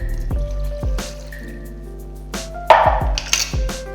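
Room-temperature water is poured onto a bread starter, giving several short glugging drips and splashes, then a burst of louder pouring and liquid gurgles near the end, close up and with no talking.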